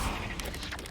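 The Confringo fire blast spell in Hogwarts Legacy fires as a brief, dense burst of crackling, explosive impacts that stays loud and near for about a second, with no talk.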